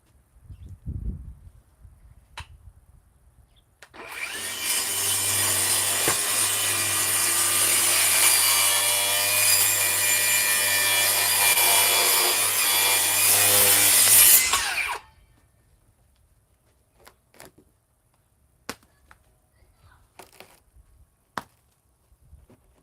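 Continuous wood sawing for about ten seconds, harsh and loud like a power saw, then quiet with a few small knocks and clicks.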